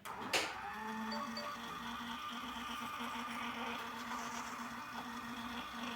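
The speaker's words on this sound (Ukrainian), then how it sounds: "Ну, наприклад, пробуємо надрукувати пробну сторінку." Mini Bluetooth printer running off a test page, a steady mechanical whir with a rhythmic pulsing feed tone after a brief click at the start, close and continuous.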